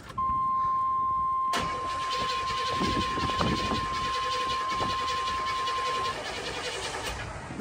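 An engine cranking over and trying to start after a gallon or two of gas is added, a loud close churning that starts abruptly and grinds on steadily for several seconds under a constant high tone.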